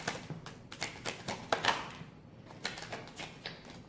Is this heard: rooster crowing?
no